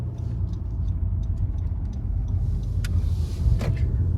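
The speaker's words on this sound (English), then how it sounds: "Okay, after this black car goes, we can go." At a traffic-light intersection, a black car drives past a waiting vehicle, heard from inside as a steady low road rumble with the passing swell building toward the end and a few small clicks.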